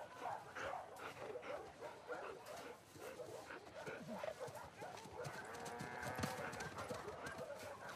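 A dog barks in The Last of Us Part II video game, repeated barks over a busy background of hoof clip-clops, livestock noises and ambient sound, with voices mixed in.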